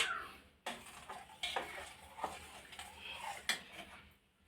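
A mango and chhena mixture is stirred into milk in a pot, with quiet scraping and light clinks of a spoon against the metal in an uneven rhythm, close and faint, no voices.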